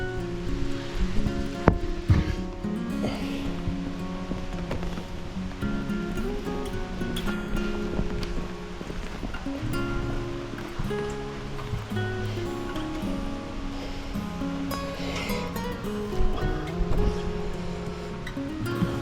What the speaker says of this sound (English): then I'll get out of this rain